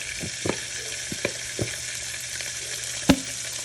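Shrimp and minced garlic frying in a pan for shrimp scampi: a steady, moderate sizzle with a few scattered pops and light knocks of a utensil, close by with no talking.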